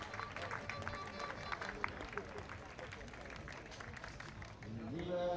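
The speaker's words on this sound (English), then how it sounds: "one final round of applause from this home crowd for Germany" A home crowd at a blind football European Championships match in Berlin gives a faint, scattered round of applause, claps and crowd murmur spread across a large venue and heard from a distance.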